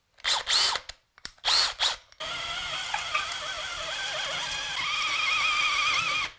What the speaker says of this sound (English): there we go, two holes drilled